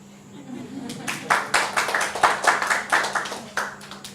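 A small group of listeners at a personal branding talk claps briefly, with irregular hand claps rising around the one-second mark and continuing close by, and a steady low hum runs underneath.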